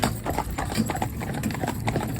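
Horse hooves clip-clop in a steady, even rhythm on a paved road as the horse is driven, close and clear over a low background rumble.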